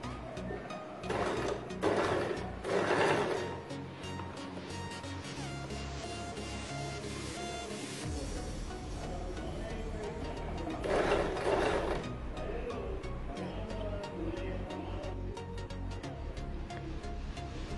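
A sewing machine stitches around a folded bias strip on a baby frock, whirring in short runs with mechanical clatter and pauses between bursts, close and moderately loud.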